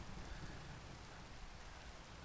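Steady rain falls in a video game, a soft, even hiss of drops that continues without a break and stays faint throughout.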